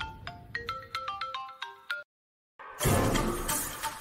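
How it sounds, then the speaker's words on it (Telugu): A melodic phone ringtone plays a quick sequence of bright notes, stops briefly, then loud broadband noise follows. "ఫోన్ వచ్చింది"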